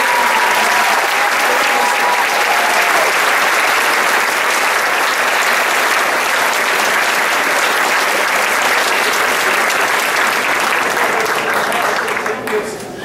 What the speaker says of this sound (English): All right, let's give a big round of applause.